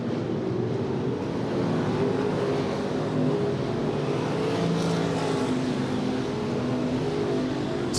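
Oval-track race cars at Willamette Speedway, engines droning and revving together in a dense, continuous roar, with a car sweeping past partway through, steady and fairly loud without any talk.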